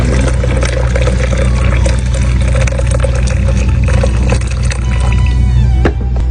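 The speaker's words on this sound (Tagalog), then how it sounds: "Lagyan natin mainit guys na tubig." Hot water is poured steadily to brew barako coffee, giving a continuous, fairly loud splashing hiss that runs almost unbroken through the whole stretch.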